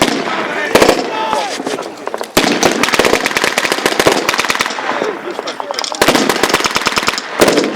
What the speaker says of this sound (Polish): Lekki karabin maszynowy będzie za chwileczkę uratowany.